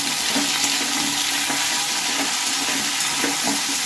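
Pumpkin and chickpeas are stirred with salt in a hot pan, producing a continuous loud sizzle with repeated scraping strokes of a spatula at a loose, steady rhythm.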